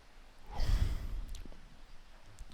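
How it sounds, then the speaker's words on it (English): A very quick yawn: one short, breathy rush of air that swells and fades within about a second, close by, with nothing else around it. "really fast yawn"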